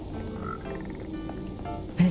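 Frogs croak in the video game Minecraft Java Edition, with a run of rapid, fairly close croaks over a steady game background, ending in one louder burst.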